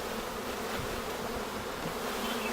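Loud, continuous buzzing of a mass of honeybees being shaken out of a shipping package into a hive, a thick steady hum close by with no voices.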